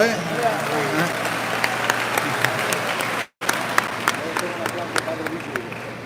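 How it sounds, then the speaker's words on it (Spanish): An audience at an evening Catholic teaching event bursts into applause, a dense, steady patter of many hands that carries on throughout, broken only by a brief dropout midway. "Un aplauso,"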